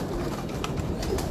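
Several pigeons at a Kasur pigeon-keeping loft give a low, steady cooing drone, close and continuous, with no voices over it.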